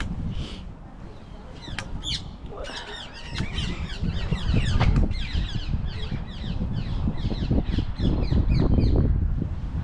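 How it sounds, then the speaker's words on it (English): Shrill squawking calls of green parakeets repeat in quick bursts throughout, over gusty wind noise and some rustling outdoors in Beckenham Place Park. "There's a little parakeets, the green ones."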